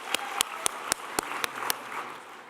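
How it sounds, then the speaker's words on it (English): Applause at the Nordic Women in Tech Awards ceremony in Iceland, with a soft bed of crowd clapping punctuated by seven sharp, evenly spaced loud claps close to the microphone. "let's give her a round of applause too."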